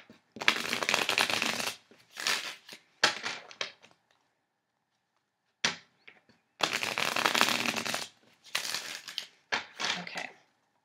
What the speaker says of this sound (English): so that's the shuffle of the cards.